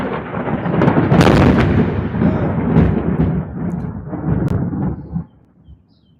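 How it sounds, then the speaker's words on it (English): Thunder from a nearby lightning strike behind a neighbor's house booms loud and close, rolling and crackling for about five seconds before dropping off sharply into quiet, with light rain underneath. "That lightning was close"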